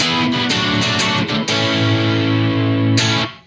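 Distorted electric guitar recorded direct through an amp simulator with added room ambience, a chugging riff of muted low chords and sustained ringing notes played loud and alone, ending in a brief decay.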